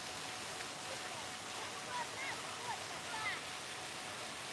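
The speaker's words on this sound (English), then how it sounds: "I hope you can hear the water" Steady broadband rush of fountain water on the Batumi Boulevard seaside promenade, continuous and fairly even, with faint chirps and distant background sounds scattered over it.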